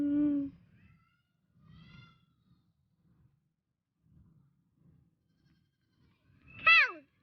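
Baby goats bleat twice in a small farm setting: one short call at the start and a louder, quavering bleat near the end, with quiet rustling and soft background noise in between.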